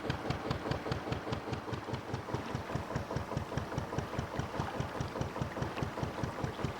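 A narrowboat's diesel engine chugs steadily with an even, rapid low knock, running continuously and fairly close without pause.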